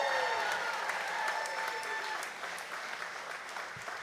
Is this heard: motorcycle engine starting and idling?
no